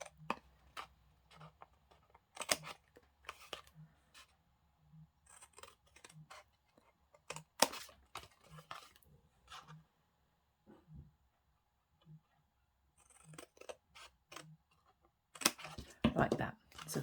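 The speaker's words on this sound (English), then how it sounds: "just cut up each of these score lines" Scissors snip through scored card for a small triangular gift box, a series of short crisp cuts in irregular bursts with quiet gaps, close and clear, with brief talking between.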